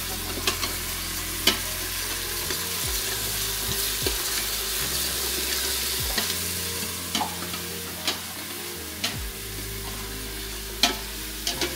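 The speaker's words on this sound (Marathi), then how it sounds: "आणि आता मी इकडे कांदा परतून झालेला आहे आणि कांदा परतला." Onion sautéing in a pan: a steady close sizzle with a spoon scraping and knocking against the pan every second or so, no voices.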